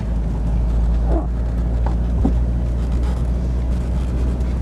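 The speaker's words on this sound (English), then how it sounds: "Listen to the engine run." A Corvette engine hums low and steady at cruising speed in overdrive, with wind rushing past and a few faint squeaks.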